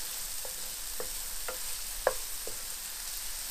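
Onions frying softly in a pan under a low sizzle, with five or six evenly spaced scrapes of a utensil stirring them at about half-second intervals, one sharper clack near the middle, and no speech.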